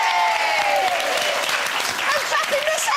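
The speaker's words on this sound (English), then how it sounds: "I'm clapping myself here." A studio audience applauds steadily on a daytime TV talk show, loud and dense clapping throughout with a voice talking over it.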